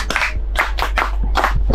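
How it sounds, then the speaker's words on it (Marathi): A group claps hands in a quick, loud burst of about seven sharp claps in under two seconds, close to the microphone. "टाळ्या 9 क्लॅप्स होऊन जाऊ द्या"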